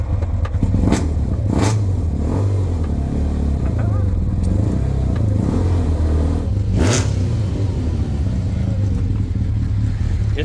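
A motorcycle engine fitted in a kei truck runs loudly and steadily nearby, with a constant low rumble and a few sharp clicks or bursts over the top.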